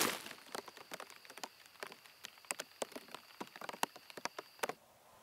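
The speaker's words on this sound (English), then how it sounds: "Here comes the rain." Irregular raindrops patter and tap sharply on a nearby plastic bag, a scattered crackling rhythm that stops abruptly near the end.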